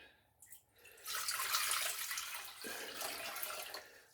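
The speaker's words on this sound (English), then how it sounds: "the first thing you want to do is put your water in" Water from a tap pours into a cooking pot for New England clam chowder, a brief trickle then a sustained splashing rush that dips briefly and continues, close and moderately loud with no talk.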